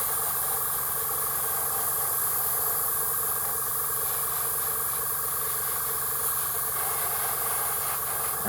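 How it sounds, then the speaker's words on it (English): An airbrush sprays paint onto a Warhammer miniature plasma regulator. It gives a continuous close hiss over a faint low hum that runs steadily the whole time. "another great thing about airbrushing is I've literally just finished painting this one"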